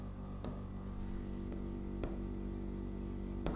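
Pen or chalk writing during a 12th-grade biology lesson on chromosomal disorders, a few short scratchy strokes spaced about a second apart over a low steady room hum.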